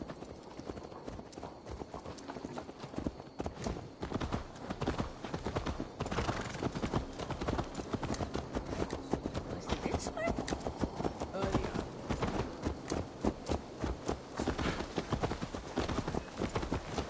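Steady clip-clop of horse hooves trotting at an even rhythm, close and continuous, with game ambience around it, in Assassin's Creed Valhalla.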